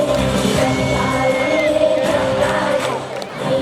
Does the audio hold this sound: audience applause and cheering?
yes